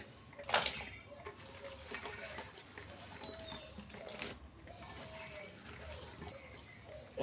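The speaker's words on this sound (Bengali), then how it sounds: "এবার গরম জলটা একটা গামলা ঢেলে নিচ্ছি এখন ধুয়ে রাখা কুলগুলো এই গরম জলের মধ্যে দিয়ে দিচ্ছি" Hot water is poured into a basin and washed dried jujubes are dropped in, giving a faint running-water splash with a sharp burst early on and quieter sloshing after.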